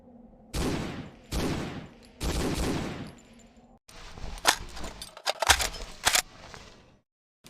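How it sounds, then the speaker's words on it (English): A BAR rifle fires in the video game Hidden & Dangerous 2: three loud, evenly spaced bursts, then a busier stretch of sharp reports and clattering impacts before a short silence. "I recommend firing the BAR in a semi-auto pattern to lessen that recoil"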